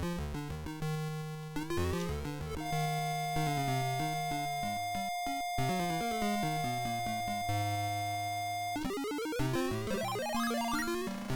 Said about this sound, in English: Mario sounds like this if you are sick.